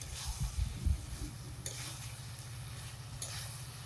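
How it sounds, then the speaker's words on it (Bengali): Fried potatoes and spices sautéing together in a pan, a soft, steady sizzle with a few low scrapes and knocks of stirring early on, fairly quiet and without talk. "এখন মশলায় আলুতে একসাথে কষাবো"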